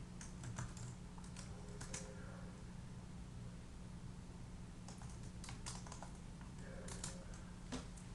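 Program code is typed on a computer keyboard in quiet bursts of rapid key clicks, with pauses between the runs of keystrokes.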